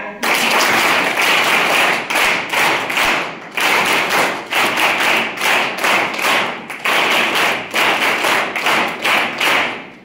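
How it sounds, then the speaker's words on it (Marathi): A crowd claps in unison, sharp rapid claps grouped in steady rhythmic bursts with brief pauses between rounds, loud and sustained for about ten seconds. "3 टाळ्या वाजवूया"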